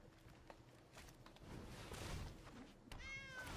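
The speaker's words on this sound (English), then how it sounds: "Did y'all hear that little meow?" A small cat gives a short meow near the end, set against soft shuffling and background noise; the cry is brief and fairly close, with no talking over it.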